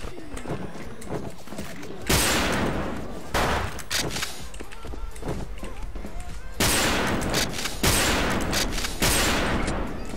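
Automatic gunfire in a shooter game, several loud sharp bursts of rapid shots, each ringing out and decaying, spaced a second or two apart, with someone talking in Turkish between them.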